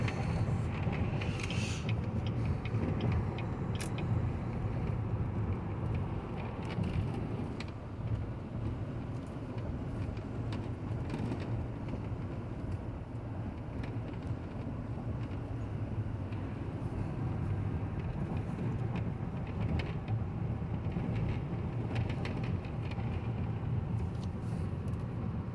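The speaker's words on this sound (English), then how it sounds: "Here we're going highway speeds again." A 2015 Cadillac Escalade cruising at highway speed, with a steady low road and engine rumble and constant wind and tire noise from inside the cabin throughout.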